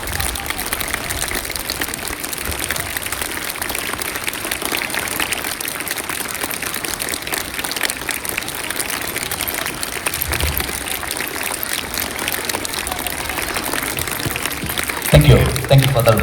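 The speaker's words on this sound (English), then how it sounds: "Giving a clap." Students applauding at an academic year inauguration, a dense, sustained clapping from a crowd that continues for a long stretch, with voices audible underneath.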